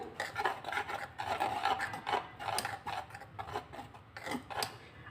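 Gram flour and semolina batter with turmeric being stirred in a bowl, a close, repeated scraping and rasping that comes in uneven strokes throughout, with no voice over it.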